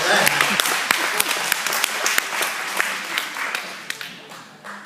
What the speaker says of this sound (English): You can give him a round of applause for that.